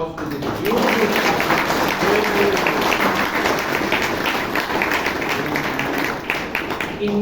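An audience at a Toastmasters meeting in Bangalore breaks into loud, sustained applause that fills the room, with voices mixed into the clapping.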